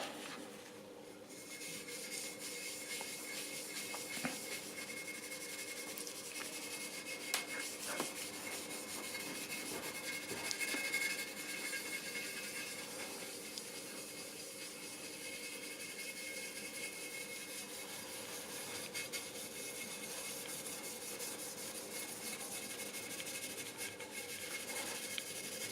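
HP34 cleaning and polish cream is rubbed by hand onto the metal of a 1975 Peugeot, a steady, soft, continuous scrubbing rasp that lasts throughout with no speech.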